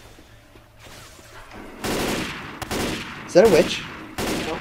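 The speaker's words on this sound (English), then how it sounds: "Why'd you shoot like 50 million times?" Gunfire from the video game Left 4 Dead 2, heard as several bursts of shots with the loudest near the end, while a player talks over the action.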